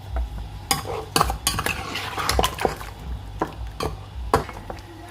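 A spoon stirs beef paya and water in a metal pot, scraping and clinking against the sides in irregular strokes, close and fairly loud, with no one talking.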